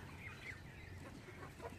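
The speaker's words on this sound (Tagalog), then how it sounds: "Diyan mga manok yun dyan." Chickens on a small farm where goats are also kept give a few soft clucks, faint and somewhat distant against a low background hum, with no voices.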